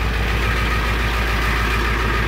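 A 1984 Ford F-250 with the 7.3 IDI diesel idles steadily after a cold start on a fast idle stick, a continuous low, even rumble close by with no talk.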